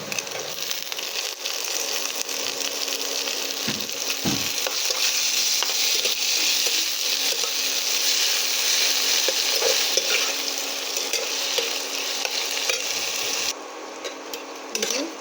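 Vermicelli snack mixture with tomato sizzles steadily in a pan while being stirred, a continuous close frying hiss with occasional scraping strokes and no talk.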